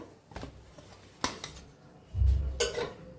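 A cooked egg flatbread set down on a plate in a home kitchen: a couple of light clinks and a soft low thump of the bread landing, quiet and close, no talking.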